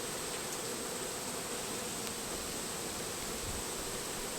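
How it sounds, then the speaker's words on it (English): Honey bees buzz in a queenless hive late in a honey flow, a few lost workers and drones left inside; a steady, faint, even drone holds throughout with no talk. "There are a few lost bees there."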